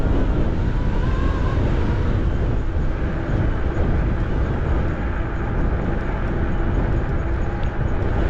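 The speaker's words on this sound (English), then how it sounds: "It's breezy. You can see the palms swaying in the wind." Breeze on a Florida coast e-bike ride roars steadily across the microphone, a broad, constant low rushing with no pauses and a faint hiss above it.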